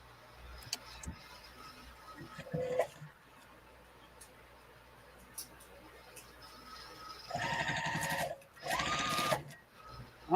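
Sewing machine stitching vinyl for a key fob, with bursts of rapid mechanical whirring near the end after quieter ticking and handling noises, amid a faint background of a live sewing chat.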